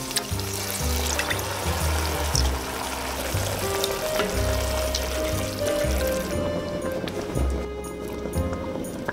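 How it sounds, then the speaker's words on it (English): Homemade marinara sauce poured into a pan where onion and garlic are cooking, a steady wet pouring and sizzling sound that runs for several seconds under low background music. "Add my marinara sauce."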